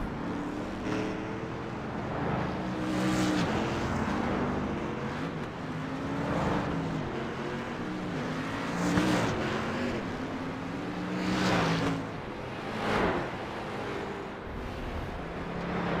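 Street stock race cars roll by on the Langley track in a field, engines droning and swelling as each car passes, a steady stream of nearby motor rumble rising and falling with no talk.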